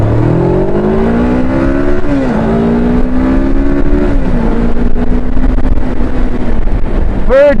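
A 2002 Suzuki GS500 motorcycle accelerating through the gears on a city ride, engine note climbing, dropping at each shift, then pulling steadily, loud and close with wind noise.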